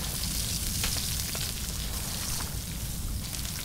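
Sardines sizzling on a campfire in the survival video game Stranded Deep, a steady broadband frying hiss with faint crackles, continuous and fairly quiet, with no talking.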